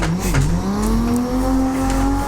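A 700 horsepower car in Assetto Corsa, its engine droning steadily at high revs and rising slightly in pitch, with tire squeal, loud and close.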